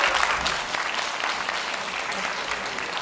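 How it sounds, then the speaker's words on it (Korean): An audience at an outdoor concert in a park's open-air stage applauds, a steady wash of many hands clapping at moderate volume for a few seconds. "출연진들께도 큰 박수 주시면서"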